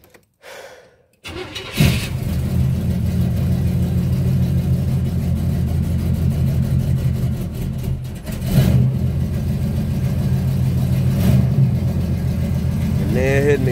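A 1978 GMC Caballero with a 400 small-block V8 and dual Magnaflow exhaust cold starts close by: starter cranking, the engine catching, then a loud rumbling idle with a couple of throttle blips.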